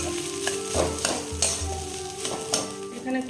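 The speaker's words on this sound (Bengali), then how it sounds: "এবার এগুলোকে একটু মিশিয়ে দেবো" Spices being stirred into semolina frying in a pan, a steady sizzle under repeated scraping strokes of a spoon against the pan, close and fairly loud with no talking.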